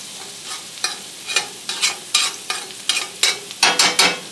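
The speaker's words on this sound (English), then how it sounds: "You want to cook the garlic and shallots until they're just lightly browned, but we don't want them to burn" Garlic and shallots fry in butter in a cast iron pan, with a hissing sizzle broken by a regular series of sharp stirring scrapes, close and fairly loud, with no talk.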